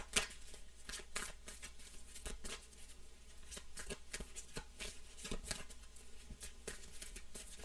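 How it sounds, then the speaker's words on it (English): A deck of playing cards is shuffled over and over, a steady run of quick riffling card snaps and flutters close by, with no talking. "Yeah, I gotta shuffle because it's the same cards"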